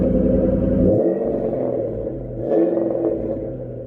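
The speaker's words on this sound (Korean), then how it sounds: "엔진 소리 들어보세요" A used car's Ford 4.6 V8 engine revving and rumbling up close, with a low throb that swells, dips and rises again across a few seconds, heard alone without talk.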